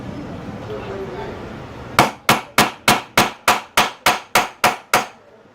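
A hammer strikes a big metal punch to cut an eyelet hole for a chain bag, eleven sharp ringing blows in a steady, evenly spaced rhythm, close and loud after a quiet start.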